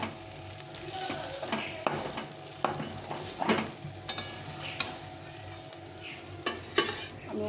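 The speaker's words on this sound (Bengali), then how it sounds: "এখন ডিমটাকে একটু পিস পিস করে ভেজে নিতে হবে।" Egg pieces sizzle in a hot pan while a spatula stirs them, with repeated sharp scrapes and knocks over a constant frying hiss close by.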